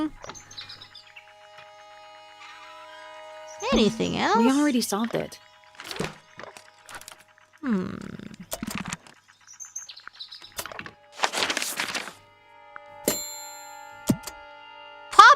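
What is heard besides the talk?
birdsong in the video game Tangle Tower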